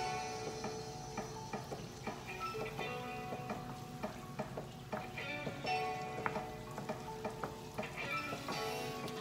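Garlic sizzles steadily in a hot pan while cooking shrimp, a soft, even hiss dotted with light ticking clicks from the pan and utensil, with no talking.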